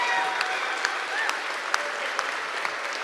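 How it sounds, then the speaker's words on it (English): A crowd claps steadily at a VEX Robotics competition event, a dense wash of hand claps with a few sharper claps standing out, and no talking. "Can we please give them a huge round of applause?"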